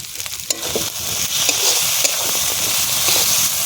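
Paneer pieces fry in a pan, setting off a loud, steady sizzling hiss close by, with a few clinks of stirring at the start.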